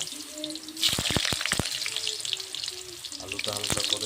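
Potatoes frying lightly in oil, a crackling sizzle with a burst of sharp spatters and clatter partway through, close by, while a voice talks over it.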